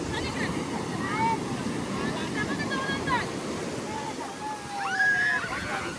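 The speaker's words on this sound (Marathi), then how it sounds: "आली लाट आली लाट येईल डबल" Sea waves washing in on Arnala beach, a broad roaring wash of surf with wind noise and a swell that builds near the end, while people talk and call out over it.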